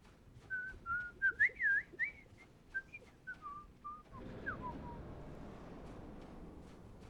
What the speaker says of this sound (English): I gotta practice my whistling somehow.